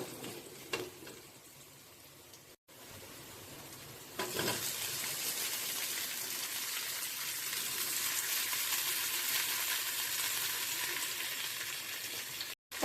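Chopped tomatoes and onions sauté in a pan for a fish curry, with a faint steady sizzle and a few soft stirring scrapes. The frying hiss grows slightly louder after the first few seconds and then holds.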